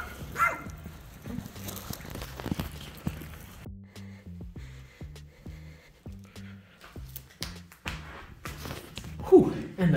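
A small dog barks in a short series of yaps and whimpers indoors, close by, amid footsteps and low human vocal sounds.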